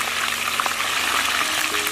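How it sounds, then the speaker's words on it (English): Rat meat frying in a pan, a steady close hiss and sizzle of hot oil with faint bubbling, no talk. "That's getting ready to fry it."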